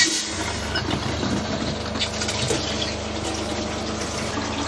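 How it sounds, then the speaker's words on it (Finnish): Water runs steadily through a newly installed water filter aboard a sailboat, a continuous rushing flow with a pump-like hum underneath, close and fairly loud with no talking. "minäpä ruuvaan tuon suodattimen ja ruvetaan laskemaan vettä"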